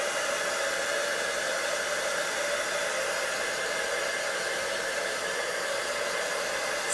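A heat tool or hair-dryer-style embossing gun blows steadily over watercolor on paper, a constant loud whoosh of airflow with a faint hum, unbroken and alone for several seconds.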